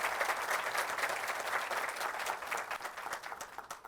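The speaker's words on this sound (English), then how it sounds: "So a big round of applause to all of you." Audience at a business school induction program clapping, a dense, even patter of many hands heard from a distance at modest volume for about four seconds.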